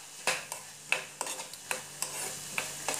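Vegetables stir-roasting briefly in a pan for rava uttapam, with soft repeated spatula clicks and scrapes at an irregular pace over a faint hiss, quiet and close with no voices.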